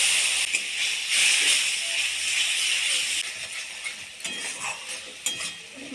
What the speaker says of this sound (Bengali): 1 চামচ জিরে গুঁড়ো, 1 চামচ হলুদ গুঁড়ো, অল্প একটু জল দিয়ে কষিয়ে নেব।